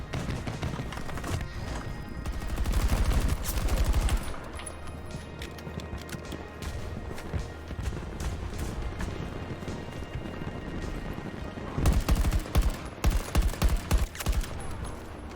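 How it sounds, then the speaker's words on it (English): Infantry combat gunfire in the video game Battlefield 2042, dense bursts of rifle fire with louder close volleys at the start and end over busy battle noise. "Here's a clip of what infantry combat looks like in this game."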